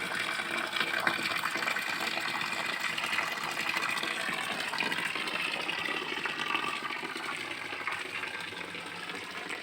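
Water gushing steadily from a village spring spout in Banjar Nyambu, a continuous close splashing rush with no pauses and no voices, its flow small but constant.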